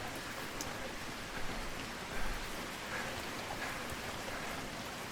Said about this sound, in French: Est-ce que la pluie ça va changer quelque chose?